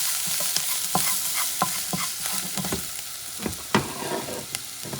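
Food in a pan for Louisiana-style beans and rice sizzles steadily under repeated spoon strokes, with sharp scrapes and clinks in an uneven rhythm, close and with no voices.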